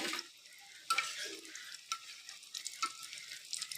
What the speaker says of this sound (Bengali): আমি ডুবো তেলে এখন চপগুলো ভাজবো।